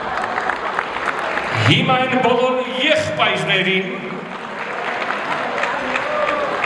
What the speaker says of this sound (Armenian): Ես խնդրում եմ բարձր ծափեր քույրերին